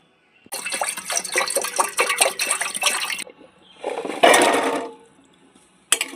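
Amla (Indian gooseberries) being washed under running water, with a steady splashing tap stream for about three seconds, then a short louder gush of water and a final brief splash.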